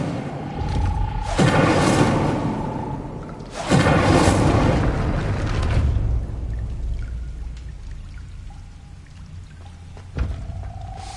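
An Incendio fire spell in Hogwarts Legacy erupts in two loud, roaring bursts of flame a couple of seconds apart, each a dense close rush that tails off, with a fainter flare near the end.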